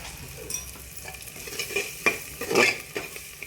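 Soft sizzling of gram flour being stirred in hot oil, with a few scraping and utensil clinks, close by.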